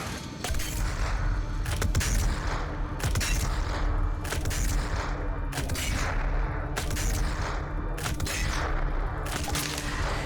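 Rapid gunfire from Doom Eternal, loud bursts of shots repeating roughly every second over a dense rumbling game-combat backdrop, no speech.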